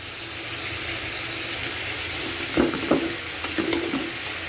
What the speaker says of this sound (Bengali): আমার পেঁয়াজগুলো ভাজা প্রায় হয়ে গেছে